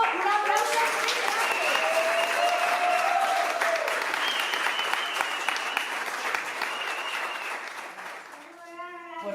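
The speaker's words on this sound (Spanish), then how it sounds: "Un aplauso." Audience applause after a director is introduced at a Water Week event in Viandar de la Vera, dense sustained clapping from a crowd that tapers slightly near the end.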